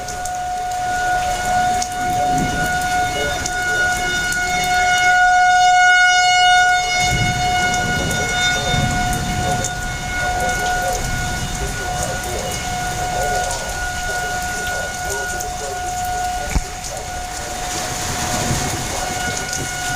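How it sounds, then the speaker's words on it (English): Outdoor warning sirens wail steadily during a severe spring storm in Nebraska, with tornado threat, several sustained tones held over a constant wash of rain and wind noise throughout. "Here go the sirens."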